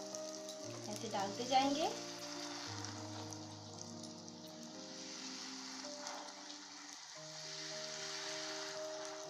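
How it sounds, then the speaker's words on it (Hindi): Golgappa puris made from wheat flour dough frying in hot oil, a soft steady sizzle with a brief louder bubbling burst as dough drops in, while someone speaks briefly over it. "ये देखिए ऑयल गर्म हो गया है, तो अब इस गोलगप्पे को हम डालेंगे इसमें।"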